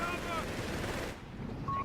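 Machine gun fire in Company of Heroes 3 rattles out as a dense, steady burst over low battle rumble and then cuts off, leaving quieter game sound with a brief tone near the end.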